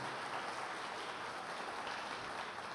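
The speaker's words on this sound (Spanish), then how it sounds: "Un fuerte aplauso para Gabriel, por favor" Audience applause at a talk on future cities, steady dense clapping heard from a distance, faint and even throughout with no talk over it.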